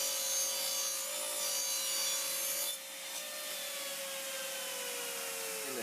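A wooden piece is cut down for a shelf during a router table build, a steady close power-saw whine that holds one tone, shifts slightly midway and then winds down near the end.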